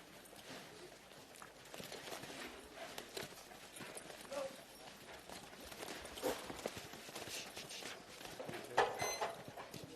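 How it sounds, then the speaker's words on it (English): Horse named Big Red, ridden at a Willinga Park campdraft at the Ringers Western Gold Buckle Championship, with hooves thudding and clopping irregularly on an arena ground, moderately distant and faint among general outdoor crowd ambience. "We now watch a Willinga Park horse"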